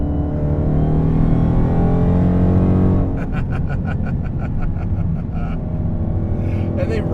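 A modified Dodge Charger Hellcat's engine roars loud and close with a deep, harmonic-rich drone that shifts into a rapid crackling burble, while people talk over it.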